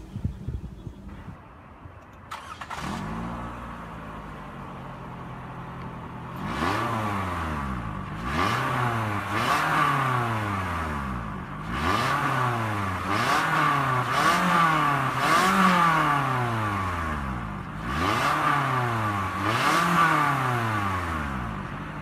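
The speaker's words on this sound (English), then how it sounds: "to start the engine, all I have to do is insert the key and turn" A 2015 Toyota RAV4 LE engine cranks and catches, settles into idle, then revs repeatedly in rising and falling sweeps roughly every two to three seconds, close and clear with no talking.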